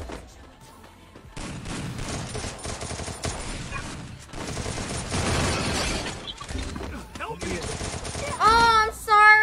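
AK rifle fire in the Free Fire mobile shooter game, with rapid sustained bursts of gunshots and game effects running almost continuously at high level, ending in a couple of sharp electronic sweeps.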